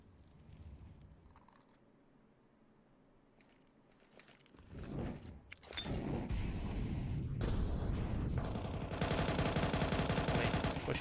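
Gunfire rattles through a Counter-Strike esports match, with quiet stretches of game ambience giving way to loud bursts of rapid automatic fire and dense volleys that build toward the end, with no speech.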